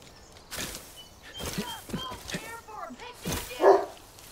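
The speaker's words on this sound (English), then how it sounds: "Dog's barking in the background." A dog barks in several quick, yipping bursts a short distance away while a person talks over and between them.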